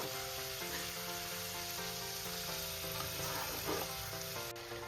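Mustard greens fry in a pan at home, a soft steady sizzle with light stirring over a faint tonal hum, fairly quiet and continuous with no speech.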